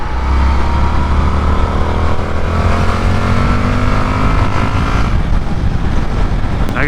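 A brand-new motorcycle with only 74 miles on it, still being broken in, drones steadily under way, its engine tone loud and close with a gradual rise in pitch like a gear pulling, and no talking.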